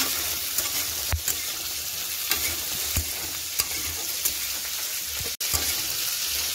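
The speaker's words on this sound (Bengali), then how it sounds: "দিয়ে দিব নাড়াচাড়া করে কেটে রাখা সবজি, প্রথম যেটা কেটেছিলাম ঢেঁড়স আলুটা দিয়ে দেবো।" Okra and potato fry in oil with onion, a steady close sizzle punctuated by regular scraping stirs of a spatula against the pan and one sharp knock.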